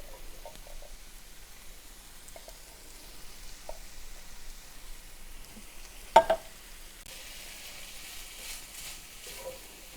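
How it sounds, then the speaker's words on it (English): Canned red kidney beans with seasoning crackle softly in a frying pan as they are stirred. One sharp knock of the utensil against the pan cuts through the low sizzle, and no voices are heard. "You just want to stir it up."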